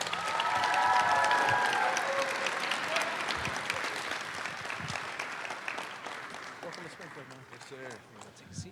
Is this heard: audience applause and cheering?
yes